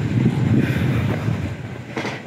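A KRL commuter train at a railway station platform, heard as a steady low rumble of wheels and carriages with a brief brighter hiss or screech near the end, no talk.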